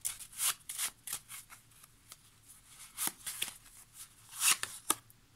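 Oracle cards are shuffled and drawn by hand, with soft, close riffling swishes and quick card flicks in irregular bursts.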